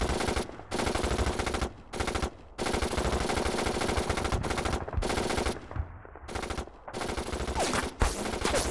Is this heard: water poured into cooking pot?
no